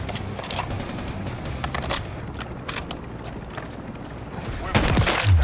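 Gunfire in a sniping video game, a steady string of sharp shots and bursts heard up close, with a louder blast near the end and a player talking over it.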